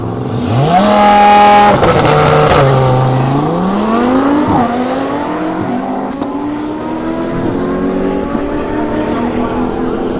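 A 1200 HP twin-turbo Audi R8 makes a drag race pass: a loud, close engine climbs steeply through rising revving sweeps with pitch drops at each gear shift, while a voice talks over it.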